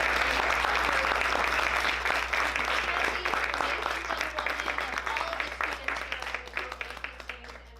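Audience applause at a school board meeting: dense, steady clapping from a room full of people that holds strong and then thins out toward the end, with a low steady hum underneath.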